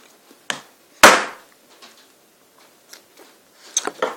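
An iPod being smashed: one sharp, loud crack stands out near the start, followed by scattered fainter knocks and a quick cluster of small impacts at the end.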